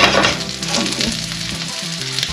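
Halved boiled new potatoes from a 250 g packet sizzle in a hot pan, a close, continuous fry with a few faint clinks of utensil, left alone to cook.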